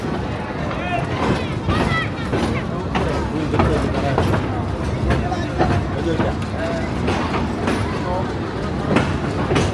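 A train rumbles along with clattering noise at a station while a crowd chatters and people talk nearby, a busy, steady din throughout.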